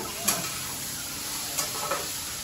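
Prawns sautéing in a hot pan with chilli, a steady sizzle broken by a few soft stirring scrapes, close and with no voices.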